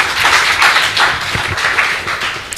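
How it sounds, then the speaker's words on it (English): Audience at a summer school session in Ghana clapping to welcome a speaker, loud, close, uneven applause of a modest crowd with distinct individual claps throughout the short burst. "Please, let's clap for our dear brother."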